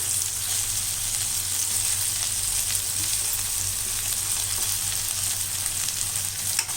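Masala-stuffed brinjals fry in oil in a kadai for an ennai kathirikai gravy, giving a steady, close crackling sizzle with a bright hissing hiss that holds without pause, no voices over it.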